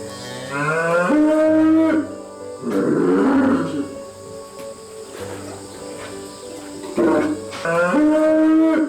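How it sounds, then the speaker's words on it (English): A Hanwoo cow about to give birth moos loudly in long drawn-out calls, several in a row with pauses between, close by with faint background insect chirping and no speech. "the cow begins to cry loudly and collapses on the ground"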